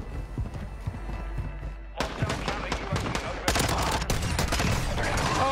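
Video game shotgun fire mixed into a busy game soundscape, with loud overlapping blasts that grow denser and louder partway through, over constant background noise.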